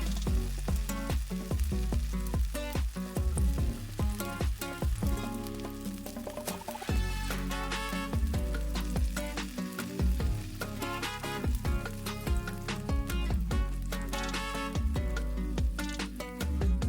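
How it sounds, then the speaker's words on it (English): A cheese sandwich browning in a hot pan, a loud, dense, continuous sizzle and crackle with occasional shifting scrapes, close and steady throughout, no talking. "we'll cook until the rest of the cheese is melted and we have nice browning on the other side of the"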